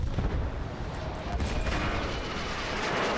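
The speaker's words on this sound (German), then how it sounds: "hier kommt nämlich Artillerie runter" Artillery fire in the video game Battlefield 1 rumbles as a dense, continuous barrage of booms and blasts, loud and steady throughout, with no speech.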